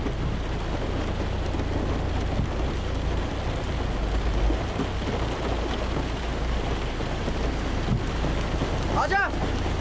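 Rain falling steadily as a broad continuous hiss with a low rumble underneath, moderately loud and constant, with a brief faint sound near the end.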